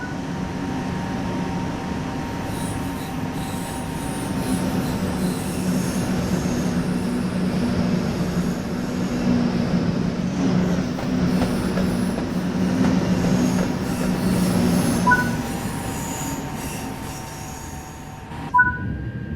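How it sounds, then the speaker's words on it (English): A TGV Duplex double-deck high-speed train runs steadily in Train Sim World on the LGV Méditerranée line, a continuous low rumble and rolling drone with a faint whine above and brief clicks near the end. "Let's take a look now while the train is in motion."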